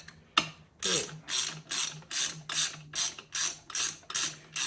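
Rhythmic clicking of a ratchet wrench being worked on a JAWA 350 motorcycle during a barn-find restoration, about nine evenly spaced ratcheting strokes, close and clear, with no talking.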